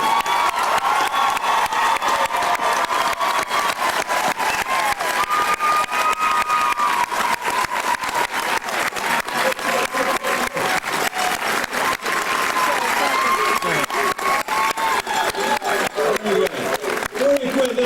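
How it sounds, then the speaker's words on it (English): At a 1998 pinning and graduation ceremony, the audience gives the graduates dense, sustained applause with scattered cheers and whoops, and crowd voices mix in throughout. "Let's give our graduates another hand."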